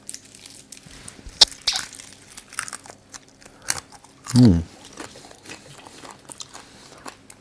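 A bite into crisp air-fried artichoke seasoned with rosemary and spices gives one loud, close crunch about midway, followed by soft chewing amid quiet room sounds.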